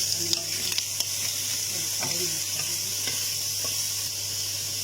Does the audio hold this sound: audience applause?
no